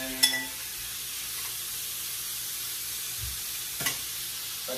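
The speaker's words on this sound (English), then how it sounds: "we're gonna add all the shrimp to the pan and just let them cook" Shrimp sizzling in a hot pan: a steady, bright frying hiss with a couple of sharp clicks from stirring or a utensil touching the pan, heard alone without talk.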